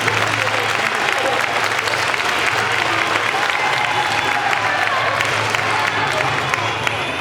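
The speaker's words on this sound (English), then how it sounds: "And a big applause for the students." Dense, loud applause from an audience at a faculty fashion show of Indian textiles and saris, continuous clapping with crowd noise sustained throughout, no voices on top.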